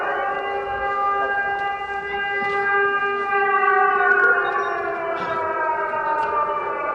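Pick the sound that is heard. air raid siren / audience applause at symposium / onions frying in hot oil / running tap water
air raid siren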